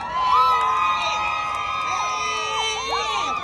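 A crowd at a twerk contest cheers and screams loudly and continuously, with high shouting voices layered over one another throughout.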